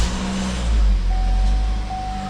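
A 2015 GMC Terrain's engine turns over and settles into a steady low idle, close by, with a brief swell in loudness near the start and no talk.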